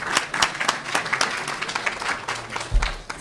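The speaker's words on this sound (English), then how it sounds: "Can we have another round of applause for Alam Saab?" An audience claps for a law office presenter, a lively round of applause with distinct sharp hand claps standing out from the crowd, steady and fairly close, with a low thump near the end.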